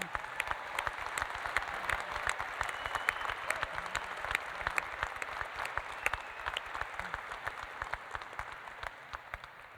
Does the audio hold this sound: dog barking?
no